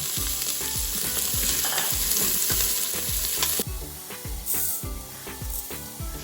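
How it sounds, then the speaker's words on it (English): Garlic sizzles and crackles in oil in an Instant Pot for a vegan vegetable lentil soup, with occasional stirring scrapes. The frying hiss is loud and continuous, with a music track underneath. "Let that fry for a little bit, and then I'm going to add the chopped vegetables and saute that for a minute or so."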